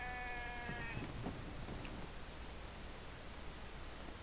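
A sheep in The Infected survival game gives a short, wavering bleat at the start, then fades into a steady hiss of background noise.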